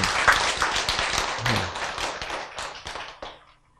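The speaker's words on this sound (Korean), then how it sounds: "박수를 크게 치시는 분도 있고 조금 치시는 분도 있고 안 치시는 분도 있는데" A classroom audience claps unevenly after a lecture on how genes change, scattered near hand claps of varied strength fading out toward the end, with a brief voice mixed in.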